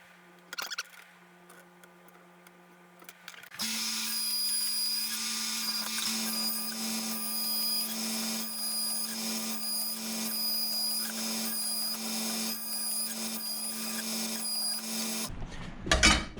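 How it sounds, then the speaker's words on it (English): A bandsaw cuts through wood for a canoe shade mount, starting after a few seconds and running in one steady, loud whine for about twelve seconds before cutting off abruptly. "we're just going to use the bandsaw and cut that out real quick."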